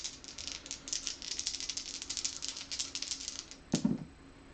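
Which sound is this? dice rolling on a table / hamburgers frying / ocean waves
dice rolling on a table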